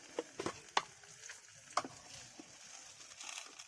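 Panch phoron seeds and two bay leaves sizzle in oil in a wok, a faint steady fry punctuated by sharp crackles and pops, mostly in the first two seconds.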